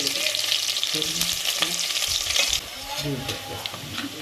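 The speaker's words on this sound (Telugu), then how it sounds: "కొంచెం ఫస్ట్ జీలకర్ర ఉల్లిపాయలు వేసుకుందాం" Cumin seeds and onion frying in a pan give a steady, loud, close sizzle with occasional stirring scrapes, continuous throughout.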